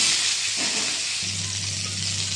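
Potato, pointed gourd and papaya pieces fry in hot oil with whole spices, giving a steady loud hiss and sizzle that continues without a break and grows fuller about halfway through, with no talking.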